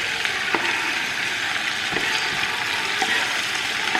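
Two large chopped tomatoes are added to golden fried onions for egg drop curry, giving a steady loud sizzle with a few scrape and stir clicks of a utensil in the pan, no talking.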